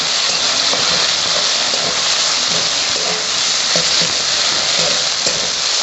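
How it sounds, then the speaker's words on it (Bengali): Ground ginger and green chili paste fries in oil with a loud, dense, unbroken sizzle and crackle, close up and steady throughout, with soft stirring underneath. "আমি আদা লঙ্কা বাটাটা দিয়ে দিচ্ছি, কাঁচা লঙ্কা আদা বেটে রেখেছিলাম ওটা দিয়ে দিচ্ছি।"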